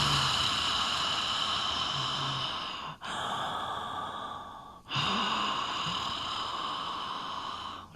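Deep, slow breaths drawn through a constricted throat during a chair yoga class, a rasping, ocean-like hiss in Darth Vader style that carries on almost continuously with two short pauses between breaths.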